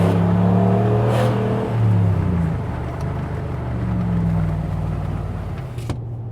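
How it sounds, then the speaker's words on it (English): 2015 RAM 1500 Laramie Limited pickup with a Hemi V8 letting out a deep, rumbling exhaust note, revving up twice with strong low growl before settling to a loud idle burble, heard close and without talk. "let's take a listen to this exhaust."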